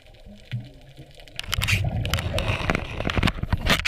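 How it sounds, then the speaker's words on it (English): A crayfish's antenna scrapes against an underwater camera housing, giving close, irregular scratchy crackles and taps over a muffled underwater background. "that sound you can hear is the antenna of the cray scraping against the camera"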